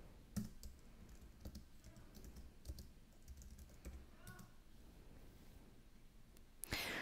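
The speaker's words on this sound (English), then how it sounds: "Type ps-u root and hit enter." Linux command typed on a computer keyboard, with scattered key clicks and a few quick bursts of keystrokes over a quiet background, ending in a louder final key press.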